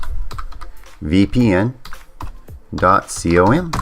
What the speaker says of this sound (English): you go up here to the browser window and you want to type in